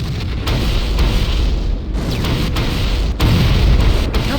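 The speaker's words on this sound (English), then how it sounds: "The Covenant are destroying the life pods." Covenant forces blowing up launching life pods in Halo, rolling explosions and booms piling up loudly and continuously, with sharper bursts cutting through the dense rumble.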